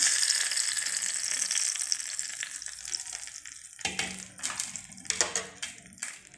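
Mustard seed tempering in hot oil poured into a peanut curry, a steady hiss and crackle that breaks into sharper sizzling bursts and splutters partway through, close and fairly loud with no talking.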